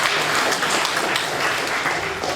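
Dense, steady applause from an audience at a university kick-off event, many hands clapping together in a continuous wash, fairly loud.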